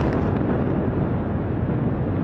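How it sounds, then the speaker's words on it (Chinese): Explosion from an Israeli airstrike on Beirut's southern suburbs, heard as a dense, sustained low rumbling roar that stays loud and even throughout. "以军从周四晚间到周五凌晨连续轰炸贝鲁特南郊多达11次"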